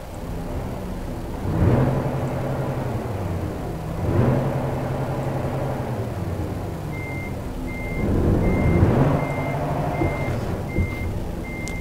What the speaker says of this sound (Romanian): Sună bine motorul, sună vechitură